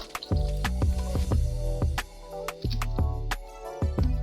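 Buffalo colostrum milk poured from a container for making junnu, a run of wet splashing and dripping pulses with a steady liquid flow, close and fairly loud with no talk.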